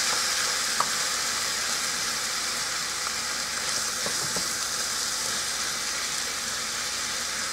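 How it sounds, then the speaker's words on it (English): Lean ground hamburger and onion fry in a pan, giving off a steady, even sizzle with a few small pops and scrapes, close and alone with no talking. "now I'm just going to let that cook up"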